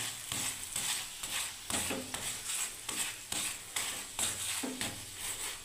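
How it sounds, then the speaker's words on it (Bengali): Soybean-stuffed paratha fries in a pan with a faint sizzle, punctuated by regular rhythmic scraping strokes of a spatula against the pan, roughly two per second, without any speech. "আমি সব পরোটাগুলোকেই ভেজে নেবো"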